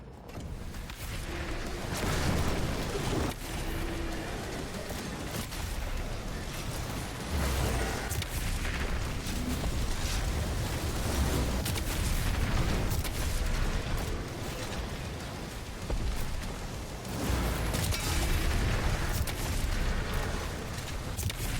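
Heavy weapon fire and booming explosions fill the DOOM: The Dark Ages battle, a dense, continuous roar of mechanical clatter and blasts that swells and dips in steady waves without letup.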